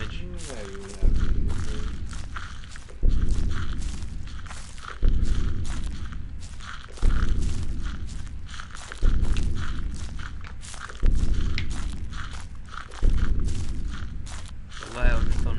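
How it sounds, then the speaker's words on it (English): Loud, thunderous footsteps in the horror video game Slender land as heavy low thuds at a slow, even rhythm of about one every two seconds, each decaying before the next, with no talk over them. "The loud, thunderous footsteps."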